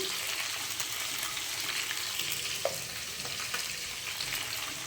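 Fried-rice ingredients fry in a salted pan with a dense, even sizzle close by, broken by one brief scrape or tap partway through; steady and moderately loud, no talking.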